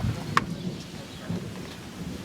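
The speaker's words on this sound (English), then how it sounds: "Ooh, thunder! Thunder!" Thunder rumbles during a rainstorm, a soft low roll with a brief sharper crack early on, over steady rain hiss; faint voices talk nearby.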